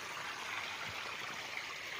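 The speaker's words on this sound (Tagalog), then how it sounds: "Kasi ito yung sapa." A small spring-fed creek on a farm lot in Siniloan, Laguna flows steadily, a continuous close rushing and trickling of water with no voices.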